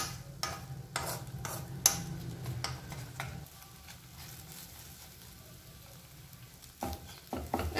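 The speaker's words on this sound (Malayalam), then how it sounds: "ഇനി ഇതൊന്ന് ഇളക്കി കൊടുക്കാം." Egg mixture with salt stirred in a pan for a Kerala plavila mutta thoran, a run of sharp spoon scrapes and clicks over a steady frying sizzle, then a quieter stretch before a few more scrapes at the end.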